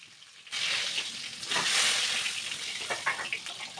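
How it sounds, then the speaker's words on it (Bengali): Eggplant slices frying in hot oil set off a sudden sizzle that stays steady and close, with soft bubbling hiss and small crackles and no voices. "এবার ঠিক একইভাবে বাকি বেগুনগুলো আমরা ভেজে নেব।"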